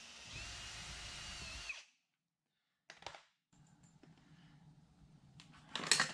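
A power drill pre-drills holes for number 8 screws in an RV side access door frame: a near, buzzing run of drilling, a pause, then short bursts and a final spin-up.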